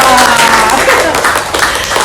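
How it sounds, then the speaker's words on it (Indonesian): Applause from an audience at a school positive-culture workshop session, a short burst of clapping filling the room, with some talk mixed in. "Tepuk tangan untuk Ibu Purwa."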